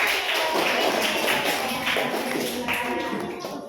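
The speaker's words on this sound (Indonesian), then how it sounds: "Tepuk tangan dulu untuk mereka yang berani." A class of children claps in a classroom, a dense, steady patter of many hands that fills the room and fades slightly toward the end, with no talking over it.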